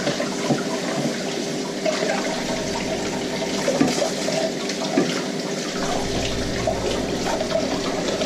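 A steady, loud stream of tap water runs continuously while a juicer's collection cup is rinsed, with faint clinks and shifts in the flow as the cup is handled close by.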